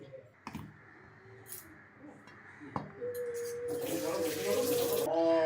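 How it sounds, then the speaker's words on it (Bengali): Boiling hot water is poured into rice flour in a home kitchen while making pitha, a soft trickling and splashing that grows steadily louder, with a few light clicks early on. "ফুটন্ত গরম জলটা এবার দেওয়া হচ্ছে।"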